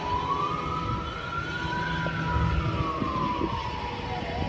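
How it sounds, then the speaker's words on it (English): A fire truck siren wails through steady city noise, its pitch slowly rising and falling as it passes at moderate distance. "There goes a fire truck."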